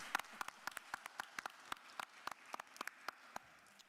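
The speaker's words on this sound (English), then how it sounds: "Let's give the commissioner a round of applause." A handful of people clapping for the commissioner at a county board of commissioners session, with sparse, separate hand claps at an irregular steady pace, faint and somewhat distant in a quiet room.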